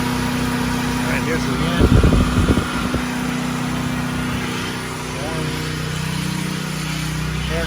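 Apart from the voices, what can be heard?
Firman Tri Fuel T07571 generator running on natural gas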